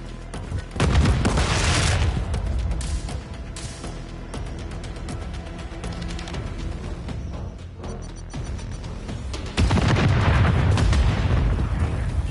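A Semtex grenade goes off in the Call of Duty Warzone video game with a heavy boom. Another loud blast follows later, with rattling gunfire and battle noise in between.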